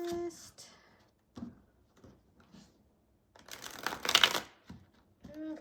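A deck of The Bizarre Tarot cards is shuffled in a brief, rapid papery riffle, with scattered soft handling sounds and quiet voice before and after.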